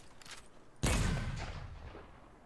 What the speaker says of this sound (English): This one's just a regular grenade launcher.